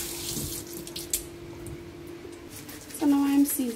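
A kitchen tap runs while raw fish is rinsed, a close stream of water that swells louder near the end, under a voice talking.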